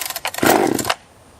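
A top handle chainsaw, Stihl or Husqvarna, being started with the choke and half throttle lock: brief rough bursts then a louder buzzing rev for about half a second before cutting off into quiet.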